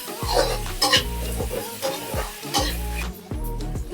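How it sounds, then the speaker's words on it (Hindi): Capsicum and corn being stirred and cooked in a pan for red sauce masala pasta, with repeated scraping stirs over a steady sizzle, close and fairly loud, no voices. "अच्छे से मिक्स करके 1 मिनट के लिए पकने देंगे।"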